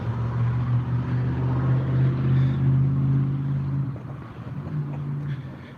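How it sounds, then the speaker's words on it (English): A passing car with a loud exhaust gives a deep, steady rumbling drone that stays strong throughout and eases slightly near the end, with no talking. "someone's got a loud exhaust"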